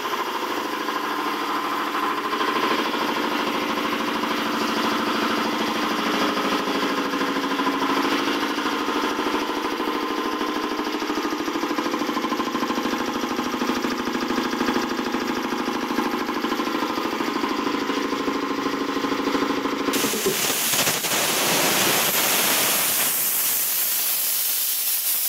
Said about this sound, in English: those of you who are interested in seeing the air compressor